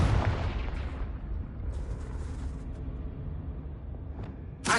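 Hogwarts Legacy Confringo fire spell, a loud explosive boom that rolls into a sustained rumbling roar, then a second sharp burst at the end, with no talking.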